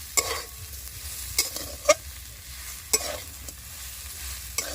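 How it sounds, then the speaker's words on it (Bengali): Potato filling for aloo chop is stirred and dry-sautéed in a pan, with a soft steady sizzle and several distinct scraping strokes of a spatula at irregular intervals, close up and with no talking. "এবার পাঁচ মিনিট মতোই আলুটাকে হালকা আছে কিন্তু খুব ভালোভাবে কষিয়ে নেব"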